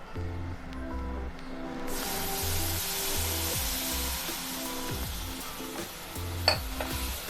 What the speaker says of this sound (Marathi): आता आपण त्यामध्ये गरम पाणी टाकूया